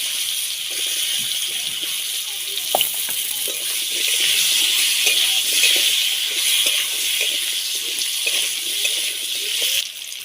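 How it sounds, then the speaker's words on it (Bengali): Potatoes frying in oil left over from frying pomfret fish, a loud, steady hiss of bubbling oil with a few faint clinks over about ten seconds. "আলুটা ভেজে নেব লাল করে"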